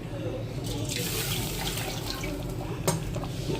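Water splashes steadily into a pot of thick home-cooked mutton curry, a continuous pouring wash with a brief louder splash near the end.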